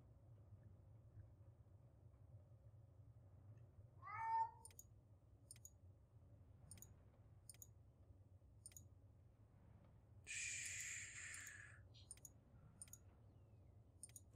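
A house cat gives one short, rising meow, followed by faint ticking clicks over a low background hum and a brief hiss-like burst a few seconds later, all quiet with no speech.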